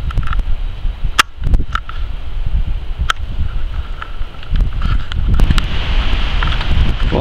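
Steady wind buffets the microphone with low rumbling gusts and broadband roar, rising slightly toward the end, with a few faint clicks in between.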